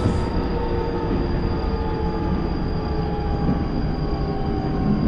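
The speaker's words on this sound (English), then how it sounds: "So the train slows down." A train in the simulator game TWS slows down with a sustained metallic wheel squeal and a steady rumble throughout, loud and close, with no talking.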